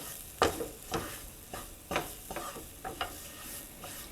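Ingredients for bacon cheeseburger soup cook in a pot while being stirred, giving a series of spaced scraping and clinking strokes over a soft, steady sizzle, moderately close, with no talking.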